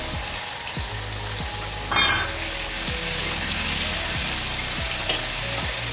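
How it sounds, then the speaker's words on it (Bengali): An onion, garlic and tomato masala paste hits hot oil in a pan while cooking Bengali dhokar dalna, giving a steady loud sizzle with a sharp burst as it goes in, then repeated stirring scrapes. "প্রথমে পেঁয়াজ রসুন টমেটো যে পেস্ট করে রেখেছিলাম সেই মশলাটাই দেবো, দিয়ে দিলাম মশলা"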